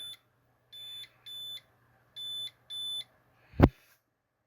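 A battery balancer for lead-acid batteries, wired to two 12 V LiFePO4 batteries run as 24 V, gives a series of five short, evenly spaced electronic beeps, followed by a sharp click or knock.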